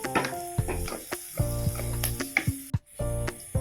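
Ginger and garlic frying in hot oil with reddened onions make a steady close sizzle, broken by sharp stirring clatters and brief pauses.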